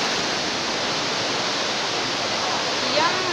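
Shypit waterfall in the village of Pylypets pours steadily, a dense, continuous roar of falling water filling the whole clip at close range with no break.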